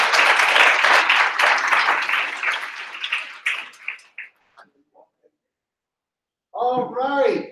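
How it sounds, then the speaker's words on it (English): An audience at an accessibility tech lightning-talk event gives a dense round of applause. The clapping fades out over about four seconds, then a voice starts speaking after a short pause. "Everyone give a round of applause for Liz."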